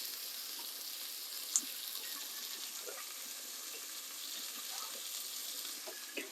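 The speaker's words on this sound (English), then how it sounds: "We are going to cook the onion until it's soft." Thinly sliced red onion frying in hot oil gives a steady, close hiss and sizzle with occasional faint stirring sounds, continuous throughout.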